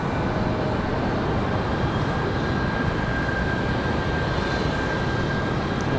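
A Delta Airbus A320 jet departs Raleigh-Durham International toward Detroit, its engine roar a steady, broadband wash of noise that holds at an even level throughout, with no voices.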